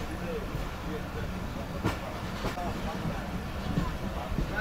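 Karakoram Express passenger train with old coaches running on track near a junction in Pakistan, a steady rumbling interior roar with faint rail clatter and hiss throughout.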